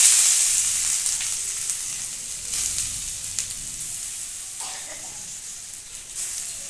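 Coconut paste sizzles and fries in hot white oil in a pan for a stuffed parwal dish, a loud steady hiss that slowly eases, with faint stirring scrapes and no talking.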